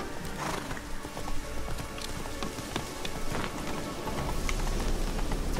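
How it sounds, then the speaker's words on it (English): A horse's hooves clip-clop steadily over a wet, rain-like wash of ambient noise in The Witcher 3 video game, with no talking. "This horse can't climb a simple friggin' rise."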